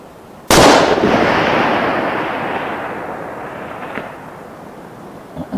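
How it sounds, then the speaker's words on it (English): A single loud .308 Winchester rifle shot fired with 180 grain loads at a long-range outdoor target near water, a sharp crack followed by a long rolling echo that fades over several seconds. "Firing."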